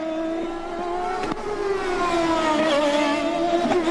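Champ Car race car engine refiring after a bump start during qualifying at Miami, a loud steady revving drone that rises and wavers in pitch, close and continuous with no talk.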